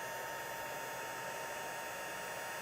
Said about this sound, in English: now it's going to get a little bit noisy because I'm going to heat emboss